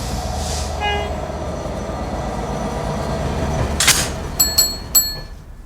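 Train on a steep Scottish railway route starting to move, with a low rumbling engine drone, a brief horn-like tone, and several sharp metallic squeals and clanks toward the end.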